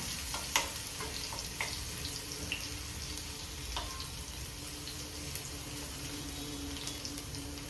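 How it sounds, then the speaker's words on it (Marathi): Garlic sautés in hot oil for a dill and fresh Bombay duck vegetable dish, a soft steady sizzle with scattered clicks and light spatula scrapes, fairly quiet and without talk. "लसूण टाकून घेते मी याच्यामध्ये. लसूण परतून घेऊया चांगला."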